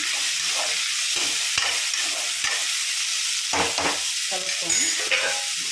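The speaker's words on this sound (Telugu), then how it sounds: "ఇంకా ఆనియన్ వేస్తాం. ఒకసారి కలుపుకొని" Onions sizzle loudly and steadily as they fry in a pan, with intermittent scraping and knocking as a spoon stirs them.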